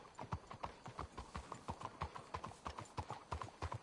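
Horse hooves clip-clop at a steady trot in Red Dead Redemption 2, a rapid, evenly spaced run of loud, close hoofbeats with no talk over them.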